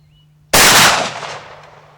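A single loud, sharp blast from a Traditions Fausti muzzleloading double rifle, fired outdoors, with a long rumbling decay fading over more than a second.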